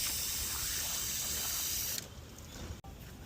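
A car wash foam cannon rinsed under a strong spray of water, a loud steady hiss for two seconds before the flow drops to a softer trickle, with a brief click near the end.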